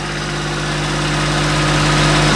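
A small Kubota tractor engine runs steadily with a deep, even hum and slight vibration while it lifts a Japanese laceleaf maple tree outdoors, growing a little louder across the short stretch with no talk over it.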